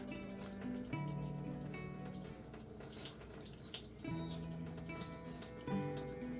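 Water runs steadily from an aquarium reverse osmosis unit with its flush valve open, a continuous hiss and trickle under a tonal hum, with no voices.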